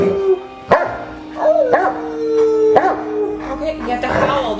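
Old English Sheepdogs indoors give wavering, rising howls mixed with short yips and sharp barks, close and loud, with a person's voice also present.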